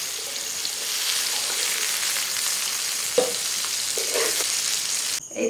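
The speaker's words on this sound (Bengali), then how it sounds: "এই যে সোয়াবিনগুলো আমি এইরকম ভাবে ভেজে নামিয়ে নিচ্ছি" Soybean chunks frying lightly in oil, a steady close sizzle with a few clinks and scrapes of a utensil against the pan as the pieces are lifted out.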